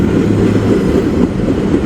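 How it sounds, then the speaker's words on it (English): A rare eastbound intermodal freight train rolls past close by, producing a loud, steady rumble with rhythmic wheel noise throughout. "that is the rare eastbound intermodal that you every once in a while get on this line"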